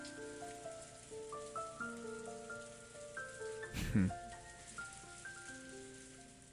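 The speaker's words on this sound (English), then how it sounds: "the obnoxious pounding of the rain against the window" Rain patters steadily against a window in the visual novel Umineko: When They Cry. It comes through softly beneath soft game piano music, with a brief louder rustle near the middle.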